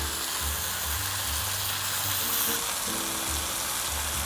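Steak searing in a hot pan while fajitas are made, a steady close sizzle and crackle of frying fat that runs unbroken, with a low hum underneath and no talking.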